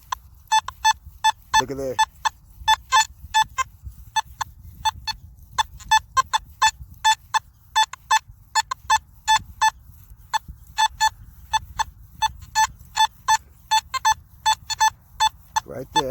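A Nokta Simplex metal detector sounds repeated short beeping tones in a park as it passes over a freshly buried coin, the pulses close and rhythmic over faint background rumble, with a brief spoken remark.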